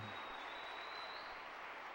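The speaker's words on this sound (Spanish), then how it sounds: "Dale fuerte ese aplauso a ese Dios poderoso" Congregation applause during a church sermon on the resurrection, a steady, even roar of many hands clapping that stays constant with no pauses.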